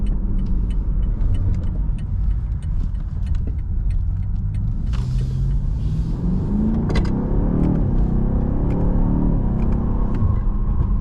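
A 2021 BMW M8 Gran Coupe with 600 horsepower accelerates hard, its engine rumble deep and continuous, rising in pitch through the revs, heard from inside the cabin with faint rattles.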